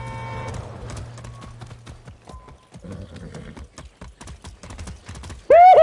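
Horse hooves clip-clop in a quick, steady gallop rhythm in Far Cry 6, loud and close, with a few brief voiced sounds mixed in before a sharp neigh bursts out at the end.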